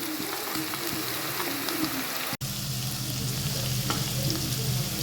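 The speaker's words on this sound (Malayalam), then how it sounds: "ആ എണ്ണയിൽ കിടന്നിട്ട് നന്നായിട്ട് വറ്റി നല്ല വരണ്ട് വരണം" Pomegranate pickle fries in oil in a pan, a dense continuous sizzle and bubbling with occasional stirring scrapes, briefly cutting out for an instant midway.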